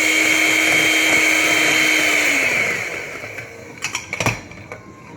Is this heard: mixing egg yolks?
yes